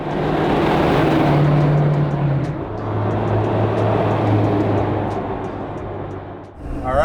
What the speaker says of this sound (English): here we go for a cruise in this bitchin' 2006 Hummer H1 Alpha